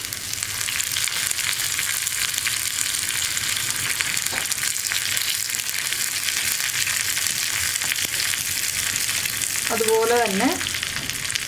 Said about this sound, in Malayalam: നമുക്കിതിലേക്ക് റൗണ്ടിൽ കട്ട് ചെയ്ത് വെച്ചിരിക്കുന്ന ഉള്ളി ചേർക്കാം